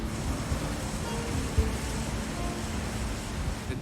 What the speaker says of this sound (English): The wind is from the north, somewhere over 30 knots.